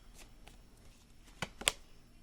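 Tarot cards being shuffled, a couple of short, crisp riffling bursts close by in a quiet room, with no talking.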